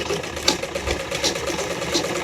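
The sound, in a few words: sewing machine stitching a suit seam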